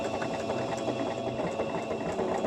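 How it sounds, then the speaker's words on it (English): A sewing machine stitches through upcycled plastic bag material with a steady, even mechanical whir and rapid needle ticking that runs continuously and close by. "I'm gonna stitch on the top and then start at the bottom and stitch all around."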